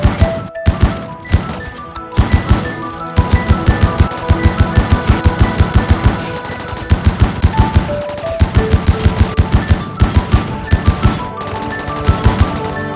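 Rapid bursts of automatic gunfire in the video game RimWorld, loud sharp shots in fast runs with short pauses between volleys, alongside game music.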